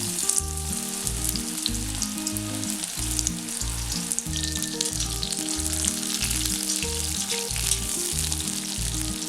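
Marinated soya chunks drop into a little hot oil for Indo-Chinese chilli soya, setting off a loud, close, continuous sizzle with crackling bursts that carries on without any speech.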